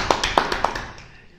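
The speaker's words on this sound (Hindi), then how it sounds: "तो ईमान इमरान के लिए बहुत सारी तालियां।" Brief clapping in applause for Iman Imran, a handful of sharp claps in quick succession fading out after about a second, close and light, like a small group or a single pair of hands.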